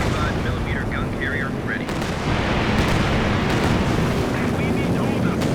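P-47 air strike in the video game Company of Heroes 2, with heavy rumbling explosions and bursts of gunfire layered into a loud, continuous battle din while a commentator talks over it.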